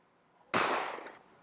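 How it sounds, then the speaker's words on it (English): A single sharp gunshot added as an edited sound effect, cracking suddenly after a short silence and ringing out in a bright decaying tail for under a second. "the gunshot is not where it's supposed to be"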